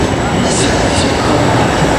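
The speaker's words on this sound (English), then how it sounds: "Here's the train to Venice." A train to Venice at Milano station, heard as a loud, steady broadband rumble and roar of rail traffic filling the platform, with a couple of brief higher hisses.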